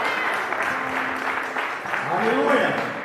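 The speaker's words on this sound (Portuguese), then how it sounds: "Pode aplaudir, já pegaram os documentos dele." A congregation applauds in church, a steady wash of clapping under a speaker's voice and some shouts, loud and continuous throughout the short stretch.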